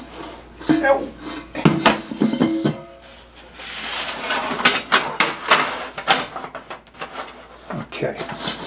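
A metal tray is set under a hot dish of cooked chicken with a series of close, sharp clanks and scrapes of pans and utensils, spread irregularly across the kitchen activity.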